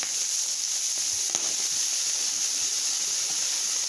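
Peppers and steak sizzling together on a hot home griddle for Philly cheesesteak, a steady, moderately quiet hiss and crackle that holds evenly throughout with no voices.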